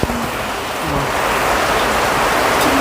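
Rain falling steadily, a dense, loud hiss of drops that fills the whole stretch without pause and with no voices over it.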